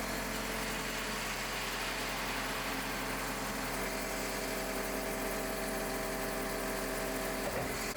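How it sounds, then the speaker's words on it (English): Liebherr bulldozer at a factory, its lifting-mast hydraulic cylinders extending and retracting over a continuous loud engine drone, with a steady mechanical hum and no clear breaks, and no voices. "the hydraulics of the lifting mast are activated, with the cylinders extending and retracting to verify smooth"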